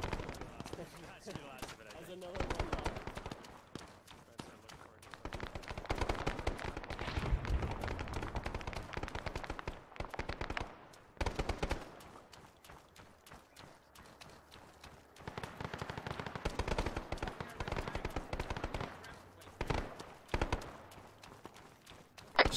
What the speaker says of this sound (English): Run into the sound of gunfire.